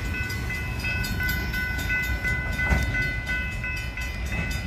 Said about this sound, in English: that right there is the last car on tonight's northbound train